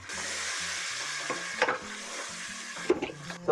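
Tomatoes sizzling in hot oil over golden ginger and garlic, a steady bright frying hiss with a few soft clicks of a spoon stirring, close and continuous, with faint low tones in the background.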